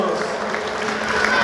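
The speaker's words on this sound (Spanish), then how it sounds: "el aplauso para los novios" Wedding guests at a celebration in Ameyaltepec applaud the newlyweds, a steady wash of clapping and crowd noise with talk mixed in.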